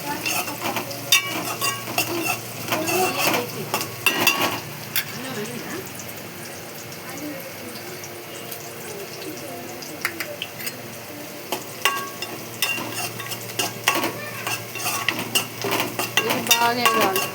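Onions and green chillies fry and get stirred in a pan, with a steady sizzle broken by repeated scrapes and clinks of a spoon against metal, close and fairly loud throughout.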